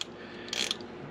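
A ratchet tightens the kickdown adjustment bolt on an automatic transmission in a Jeep TJ Wrangler, giving a short, close burst of quick mechanical clicks with no talking.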